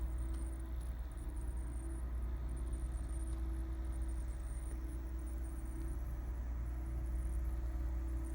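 Walthers Mainline Plymouth ML-8 model locomotive creeping at its slowest speed step over a section of taped track, giving a steady low motor hum and faint whine with no talk.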